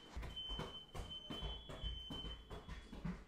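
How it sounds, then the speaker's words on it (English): Two or three smoke alarms beep together in a steady, overlapping high-pitched tone inside a house, with repeated pulses and background rumble, no talking. "They got 2-3 alarms going off at the same time."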